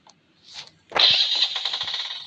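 A vehicle engine in a zombie video game cranks and catches after a brief faint sound, then settles into a steady, close, buzzing idle, with no talking.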